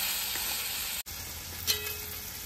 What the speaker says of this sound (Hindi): चलिए अब ये सबको बढ़िया से फ्राई मारते हैं